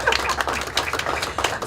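Scattered clapping from an audience at a product launch event in Kenya, a brief burst of distinct, close hand claps with an uneven rhythm.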